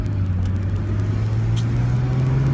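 A 2008 Chrysler Crossfire Limited Roadster drives with its top down on a chilly Florida morning, its engine holding a steady, even low drone with road rumble and no voices.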